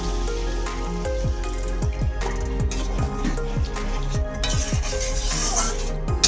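A little water goes into frying masala in a pan, giving a steady loud sizzle with bubbling, dripping pops and the scrape of stirring throughout.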